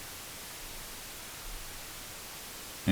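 White noise plays from a Maxell cassette with Dolby B noise reduction, a flat, continuous hiss that is quieter and duller in the treble, holding steady until a sudden loud cutoff at the very end.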